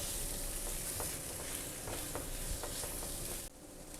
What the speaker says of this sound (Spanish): Mezclamos bien, solamente es hasta que el pollo esté un poco dorado